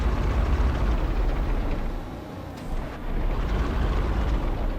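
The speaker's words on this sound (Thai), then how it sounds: "ยังได้ยินเสียงเครื่องบินบินวนอยู่นะครับ" Airplane circling overhead in PUBG Mobile, a broad steady rumbling drone that dips slightly midway and then swells back, heard alone.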